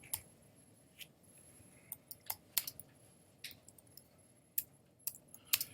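Quiet, sparse clicking of keys on a computer keyboard, irregular taps scattered over several seconds against a low background hum.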